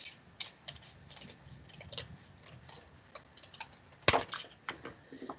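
Scissors snipping through folded paper to cut out a heart shape for a pop-up card; a quiet, irregular series of crisp snips and clicks, close by, with one sharper louder cut near the end.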